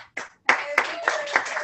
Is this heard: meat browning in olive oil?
no